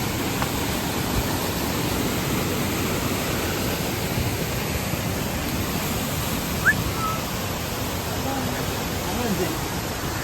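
A famous waterfall reached after an off-road drive, heard as a steady, dense roar of rushing water that fills the whole scene without pause, close and loud throughout.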